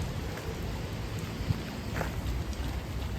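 Steady rain falls outdoors beside an old building with a fire escape, a dense even hiss with a few soft thuds and drips standing out.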